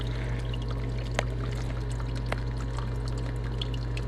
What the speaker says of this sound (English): It's going for a nice even layer of water over the grain bill there.